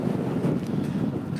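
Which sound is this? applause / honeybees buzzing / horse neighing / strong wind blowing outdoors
strong wind blowing outdoors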